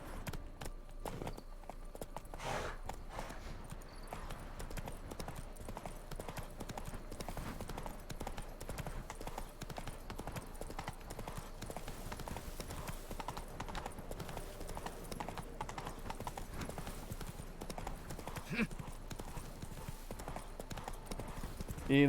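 Roach, the horse in The Witcher 3, runs with a continuous rhythmic clip-clop of hooves throughout, fairly quiet and steady, with some faint voice and game ambience beneath.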